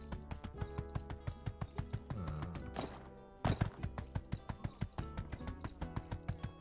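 Rhythmic clip-clop of horse hooves trotting at a steady pace over game music in My Time at Sandrock, with a brief break midway, as the horse runs low on stamina, before the hoofbeats resume.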